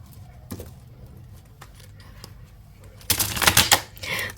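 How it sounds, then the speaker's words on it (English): Tarot cards are shuffled live, with a few faint isolated card taps, then a loud rapid riffle of flicking cards near the end. "This is a live shuffle."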